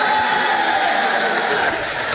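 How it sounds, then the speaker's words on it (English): A large crowd roars and cheers steadily at the Brexit referendum result, a dense, loud wash of voices with no single voice standing out. "Half the country cheering the historic vote"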